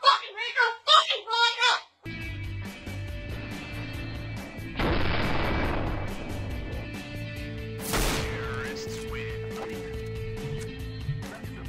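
Gunfire in the video game Counter-Strike, a loud broadband blast followed by a second sharp burst with a bright tail, over steady game ambience after someone talks briefly at the start.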